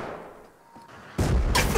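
Gunfire cracks out during a raid in Rust, with two loud, broadband blasts close together near the end after a quieter stretch of muffled background noise.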